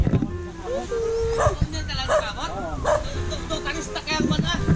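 Dogs bark and yip excitedly, close by, with whimpering whines mixed in while people talk over them.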